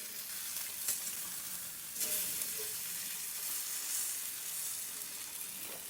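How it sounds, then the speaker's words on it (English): Lamb sears in olive oil in a hot pan, giving a steady close hiss and crackle with a few sharper spits, running on without talk. "Hope you can hear the meat sizzling away there"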